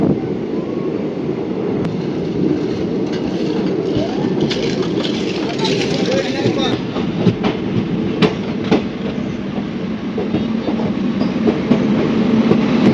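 Train on the Howrah to Tatanagar route pulling into Barabhum station near Purulia, a steady loud rumble with rhythmic clickety-clack of wheels and wind buffeting, heard from on board.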